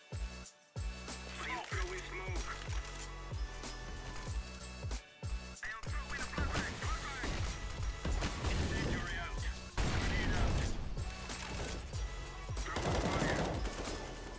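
Rapid gunfire rattles through a CS:GO match on the Inferno map, with dense bursts of automatic shots and single cracks running continuously and loudly throughout.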